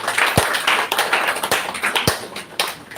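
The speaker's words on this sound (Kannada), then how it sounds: "ಕೈ ಚಪ್ಪಾಳೆ ಬರಬೇಕು ಜೋರಾಗಿ." A few separate claps and taps sound at a prize-giving event, irregular and fairly near, rather than sustained applause.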